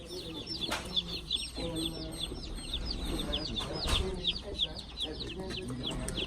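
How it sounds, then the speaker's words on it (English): Chickens, roughly two hundred of them, cluck and squawk constantly at a post office, a dense chorus of repeated calls close by with faint handling noise underneath. "That's 200 chickens right there."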